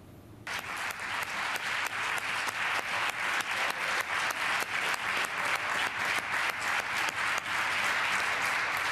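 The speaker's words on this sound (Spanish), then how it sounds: "Finalizaba con aplausos" A chamber of the Cortes de Aragón, the regional parliament, breaks into sustained applause after a unanimous vote: many hands clapping in a dense, fast patter that holds steady and loud for several seconds.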